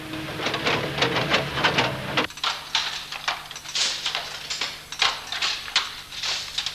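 A programmable machine from a 1979 setting runs with a steady mechanical clatter, and rapid ratcheting, printer-like clicks continue at close, fairly loud level throughout.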